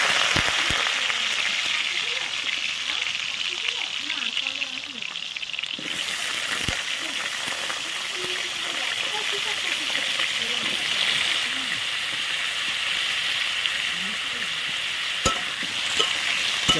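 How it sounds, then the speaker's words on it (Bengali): Potatoes fry in a little very hot oil, giving a steady, loud hissing sizzle that carries on without a break, while a voice speaks softly now and then underneath it. "এবার আমরা আলুটা ভেজে নেব মাংস দেওয়ার জন্য"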